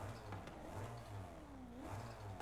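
A turbocharged car engine in Forza Horizon 5 revs with a steady mid-pitched drone, pulsing in repeated surges with a faint rising whine, quiet and without talking.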